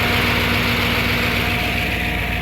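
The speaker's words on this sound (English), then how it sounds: "that's kind of a normal noise out of the roller rockers." Ford F-150 engine idling steadily and close up, with a fan whirring and a light, rapid sewing-machine-like ticking from the roller rockers running under a low hum throughout.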